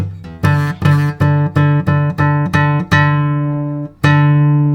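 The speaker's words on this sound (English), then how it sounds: "just listen what will be if I'll press the string more than I need" A guitar string is plucked about eight times in a steady rhythm, then one last note rings out longer. The string is pressed too hard so the note goes sharp. The notes are clear and loud, with no talking.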